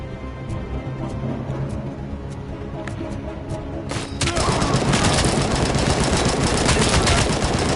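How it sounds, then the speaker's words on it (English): Assault rifle fire in the Robocop video game, starting as faint scattered shots over a steady background, then becoming a sustained, loud, dense burst of automatic fire for the second half. "An assault rifle."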